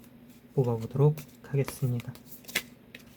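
Tarot cards are drawn and handled with soft, papery flicks and slides in a quick cluster, heard close while a voice speaks over them.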